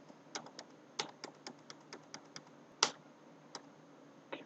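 Typing on a computer keyboard while entering a credit note in Tally ERP 9 accounting software: an irregular run of sharp key taps, each close and fairly quiet, with one louder strike near the end and no talking.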